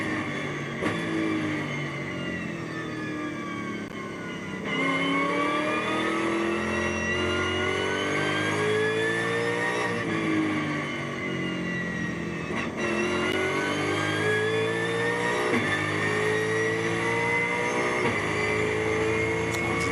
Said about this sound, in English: Let's just listen into this lovely V8 engine for a second.